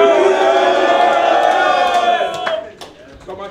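Battle rap crowd at a 1OUTSNZ Loyalty league event roars and cheers loudly and continuously, a dense wall of voices that thins out toward the end into scattered shouts.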